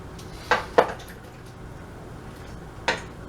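A utensil stirring tomatoes in a cooking pot for tomato sauce gives a few soft clinks against the metal: two close together, then one more after a pause, over a quiet kitchen background.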